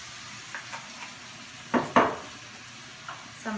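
Mixed vegetables with zucchini being stir-fried and tossed in a pan, with faint background sizzle broken by a couple of louder scraping stirs near the middle and a few lighter clinks.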